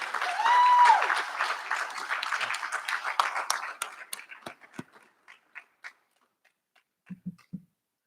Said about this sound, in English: give yourselves a well-earned round of applause